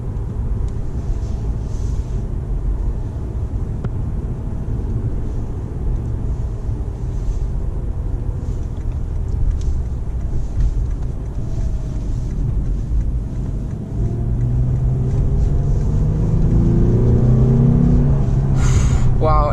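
A Lexus IS350 F-Sport, all-wheel drive, driving with a steady low engine and road rumble and wind noise throughout, growing louder near the end.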